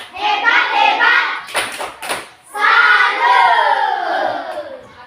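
A classroom of children doing a rhythmic salute cheer for a group, loud chanted voices with bursts of clapping, a brief pause in the middle, then the chant picks up again.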